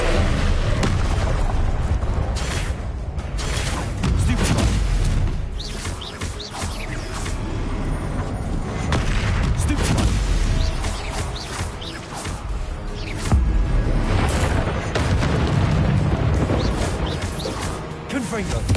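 Confringo blasting spells go off repeatedly in Hogwarts Legacy, loud booms and crashing impacts piling up over a continuous roar of battle, with a voice talking in places.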